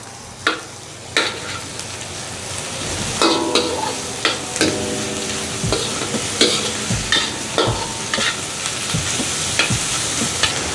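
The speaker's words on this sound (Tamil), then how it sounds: "இப்படி ஒருக்கா வதக்கி விடுவோம். இந்த மாதிரி வதங்கினதுக்கு பிறகு நாங்கள் லீக்ஸ் போட்டுக்கொள்வோம்." Onions and leeks sautéing in a pan, with a steady sizzle under repeated sharp clicks and scrapes of a spoon stirring against the metal.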